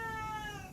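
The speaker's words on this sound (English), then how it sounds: "As you can hear from my cat" A house cat gives one short, fairly quiet meow that trails off, close by and alone.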